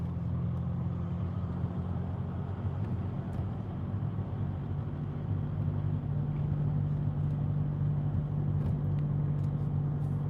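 A diesel vehicle engine drones steadily while driving, a constant low rumble with vibration and road noise, holding even and fairly loud throughout with no talk.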